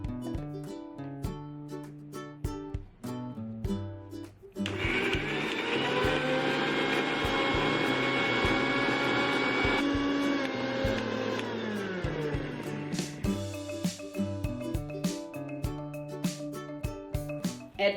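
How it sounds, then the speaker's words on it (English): An electric grinder whirs steadily for several seconds, grinding roasted curry leaves into a fine powder, starting abruptly and winding down, with kitchen clatter before and after. "Now add the curry leaf in a grinder. Pound them into a fine powder and keep aside."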